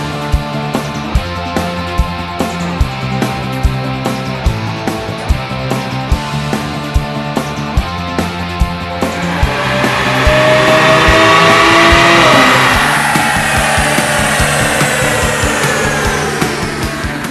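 BMW 335i engine on a dynamometer revs hard through a loud run, rising in pitch with rapid rhythmic ticking, then peaking and holding a sustained high roar before easing off.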